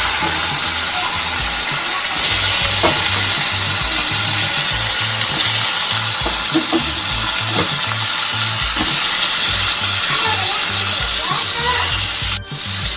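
Gunda glue berries drop into hot oil seasoned with asafoetida and turmeric, giving a steady loud sizzle and crackle that runs throughout with occasional stirring clinks.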